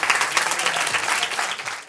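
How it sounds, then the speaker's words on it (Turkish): An audience claps at a live quiz night, a dense, even burst of applause that stays loud and steady for the whole moment before easing slightly at the end. "Efendim alkışlayalım Ahmax'ı da"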